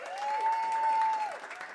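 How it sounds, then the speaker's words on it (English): A short burst of audience applause follows a singer and her band at a First Friday concert, a fairly quiet, steady patter of clapping with a thin whistle-like tone running through it. "Another round of applause"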